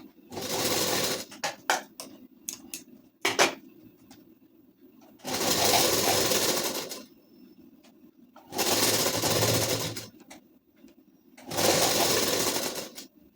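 Stitching a ladies suit seam, a sewing machine whirs in four sustained loud runs with short clicking, handling sounds in the gaps between them.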